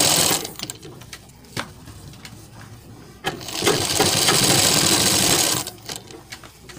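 A sewing machine stitches a collar neckline with a steady mechanical whirr, close by, starting and stopping with short gaps before one longer continuous run near the end.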